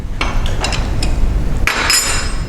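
Metal wrenches clinking while a table saw blade is taken off the arbor in a woodshop, heard as several close, bright metallic taps and a short ringing clink over a low hum.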